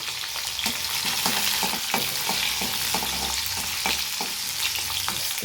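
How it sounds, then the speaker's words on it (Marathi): Cashews and green chillies frying in oil in a pan for sweet rice, a steady close sizzle with repeated scraping stir strokes and no voices. "काजू तळून जरा लालसर झाले ना तर चव पण छान लागते त्याची"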